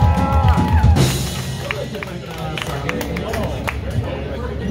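A concert crowd claps and cheers for a band, a loud burst at the start that settles into lighter applause and chatter, with a voice speaking over it.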